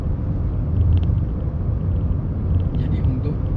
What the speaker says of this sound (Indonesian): Ini Daihatsu Rocky yang tipe X manual ya.